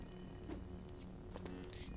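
Coins pile up in the Lego Star Wars video game with faint metallic jingling and clinks, set low over a soft background hum.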